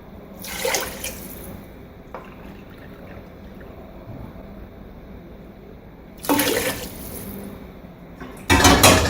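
Water poured for cooking Moroccan rice with vegetables, splashing in two loud bursts near the start and middle and a stronger rush at the end, with quieter kitchen background between.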